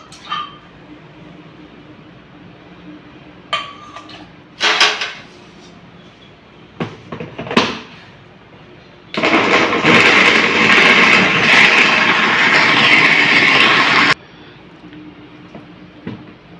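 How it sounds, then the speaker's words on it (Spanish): A kitchen blender blends boiled cassava (yuca) in one loud, steady burst of about five seconds, preceded by a few short clattering knocks and thumps and followed by quiet. "ahora voy a licuar la yuca."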